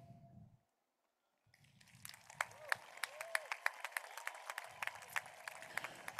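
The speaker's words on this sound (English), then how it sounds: "Please stand so that we might applaud you." Applause for parents and caregivers standing at a high school graduation ceremony starts after a brief silence, growing into scattered distinct claps with a few sharp, louder hand claps standing out over a soft background murmur.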